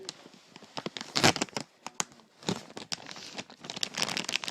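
Crinkling and tearing of a mail package being cut open with a knife, a quiet, close run of irregular crackles and rips with no talk.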